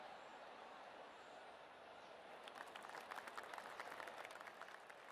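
Crowd applause in the PGA Tour golf video game after a drive lands in the middle of the fairway: a faint, steady wash of clapping that swells partway through, with no speech.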